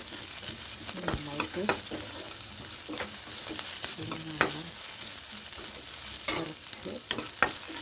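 Onion and curry leaves fry in a pan, a close sizzle broken by repeated spatula scrapes and clacks against the metal, while a voice speaks briefly over it.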